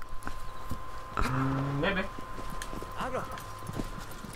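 Horse hooves clip-clop in the video game Shadow of the Colossus, a steady trotting rhythm at moderate volume with other game sounds and vocal noises over it.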